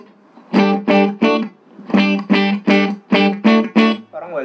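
An electric guitar strums choppy chords in three quick groups of hits through a Boss RV-5 reverb pedal in gate mode, each cut off sharply by a gated reverb tail.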